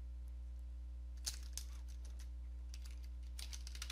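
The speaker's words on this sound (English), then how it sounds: "And then just type download, hit enter." Computer keyboard keys clatter in short irregular bursts of clicks over a steady low electrical hum, close and moderately quiet.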